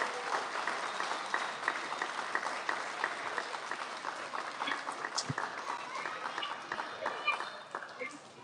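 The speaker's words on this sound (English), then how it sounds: "big round of applause for our kindergartners" Audience applause for kindergartners at an elementary school student recognition assembly: a steady, dense wash of clapping from a crowd throughout, with murmured voices mixed in.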